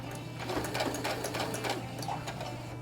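Sewing machine running a seam, a few stitches backward then forward, giving a close, steady rapid whirring hum with faint clicks throughout.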